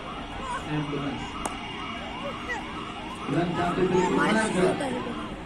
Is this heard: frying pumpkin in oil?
no